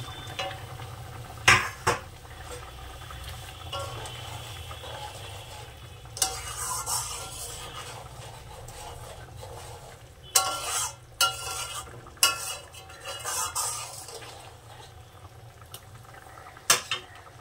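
A spoon stirs cut paneer through potato curry in a pan, with a soft background sizzle and bubbling broken by several sharp clinks and scrapes of utensil against the metal pan, close and moderately quiet.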